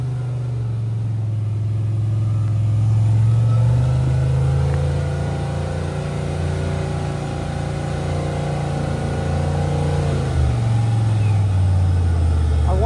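An off-road vehicle's engine runs steadily on a trail, a continuous low rumble that swells around the middle and dips near the end, with a vehicle that had a broken brake line and transmission trouble.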